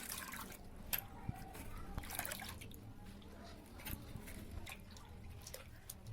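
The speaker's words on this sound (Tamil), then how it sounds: "2 டைம் நல்லா தண்ணி போட்டு தண்ணியை மாற்றிட்டு நீங்கள் வாஷ் பண்ணிக்கோங்க." Sliced potatoes being rinsed in water for chips make faint splashing and dripping sounds in a quiet kitchen, with a few soft clinks.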